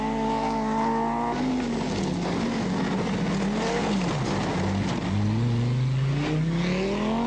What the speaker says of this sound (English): Next through should be Brooks, but it's Eklund who appears in the Toyota, followed by Wiedner.